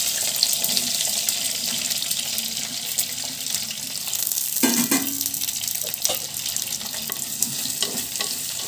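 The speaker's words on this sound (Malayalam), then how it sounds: "കുറച്ച് കറിവേപ്പില ഇട്ട് കൊടുക്കട്ടെ. ഒരു 3 സവാള ഇതിലിട്ട് കൊടുക്കാം." Sliced onions and curry leaves frying in a hot pan with mustard seeds, a steady close sizzle with a louder burst of crackling as more goes in midway, then stirring scrapes and pops continuing throughout.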